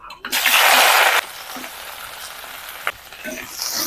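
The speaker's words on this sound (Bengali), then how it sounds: "তেলটা ভালো মতন গরম করে নিয়েছি। এবার কপিগুলো দিয়ে দেবো।" Cauliflower pieces dropped into hot oil in a wok, a loud burst of sizzling that rushes up then settles into a quieter steady fry with a brief clatter later.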